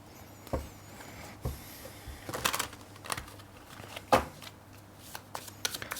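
A deck of tarot cards is shuffled close by in quiet riffles and soft slaps, with a few sharper snaps scattered through a low background hum and no talking.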